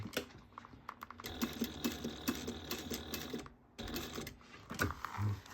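Sewing machine stitching through a bag panel, bursts of rapid mechanical needle clatter with a brief pause before resuming, close and clear with no talking.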